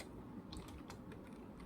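Faint typing on a computer keyboard while C++ code is written, a few quick light key clicks in an irregular rhythm over a low background hum.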